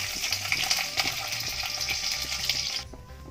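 Peanuts sizzle and crackle in hot oil in a wok, a steady close frying hiss that cuts off abruptly near the end, with no voices.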